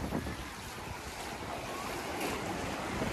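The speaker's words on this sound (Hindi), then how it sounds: "समंदर की लहरों को छूते हुए हम वापस," Sea waves wash onto a beach in a steady churning roar with gusty wind buffeting the microphone, continuous and fairly loud with no voices.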